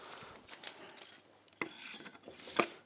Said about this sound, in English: I'll put a clamp on there.